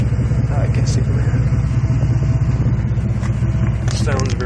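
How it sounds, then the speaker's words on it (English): A 1997 Chevrolet C1500 pickup runs with a dual 36-inch glasspack exhaust, a steady low rumble held throughout at close range while people talk over it. "Dual glass back exhaust that I put in."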